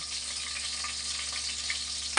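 Garlic and onion sauté in a blackened pan, giving a continuous close sizzle with light stirring and a small clatter at the very end.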